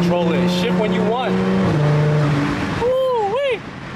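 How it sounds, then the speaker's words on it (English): Supercharged Audi S4 engine after a paddle-shift downshift to third: a steady close drone, then sharp rising rev blips, the last swelling loud before dropping off. "let me downshift to like third and then give it a little hit"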